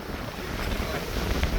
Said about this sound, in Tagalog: Tapos napakalakas ng hangin.